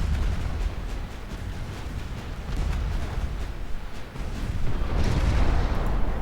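Naval guns firing armor-piercing shells during a sea battle in Ultimate Admiral Dreadnoughts, a dense, continuous low rumble of distant booms and blasts rolling together with no talk.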